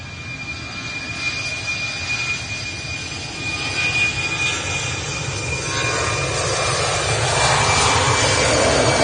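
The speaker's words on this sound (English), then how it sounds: "EasyJet A319 off to Paris." An EasyJet Airbus A319 airliner takes off from Manchester Airport during a windy storm, its engine roar a broad steady rumble that swells gradually, heard at a distance with wind noise and no talking.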